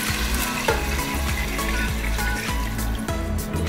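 Beef-coloured broth hitting a hot pan for oxtail kare kare, a steady loud sizzle and bubbling hiss with a few low knocks and stirring clatters, no talk.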